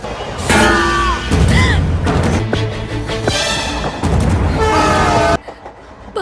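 An MMTS local train in Hyderabad rumbling close by, with several loud horn blasts over the clatter of the cars before the sound drops off suddenly.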